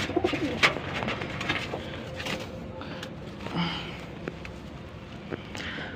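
A sick pigeon coos in soft, low, repeated phrases at close range, mixed with light shuffling and rustling, and faint voices murmur in the background.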